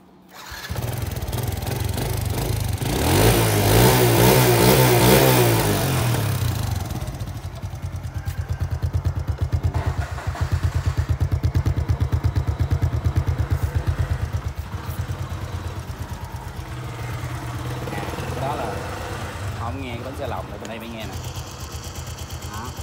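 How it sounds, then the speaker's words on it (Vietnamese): A 2004 Thai-market Honda Wave 100cc motorcycle with a worn clutch roller is started and idles, a loud sputtering single-cylinder putter that revs up then settles into a steady clattery idle, with someone talking over it. "Nổ máy thêm lần nữa cho anh em chạy về."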